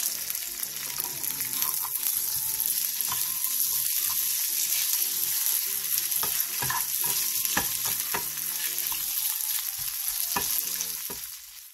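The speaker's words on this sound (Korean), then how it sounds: "게맛살과 햄도 기름에 한번 살짝 볶아내주세요." Crab sticks and ham stir-fry briefly in hot oil in a pan, a continuous bright sizzle running throughout with occasional stirring clicks, close up and with no talking.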